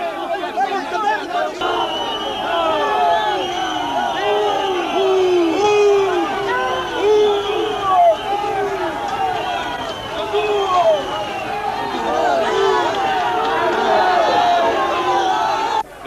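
A large crowd of protesters in Lisbon in 1975 shouts continuously and loudly, a dense mass of overlapping voices and yells close by that lasts throughout.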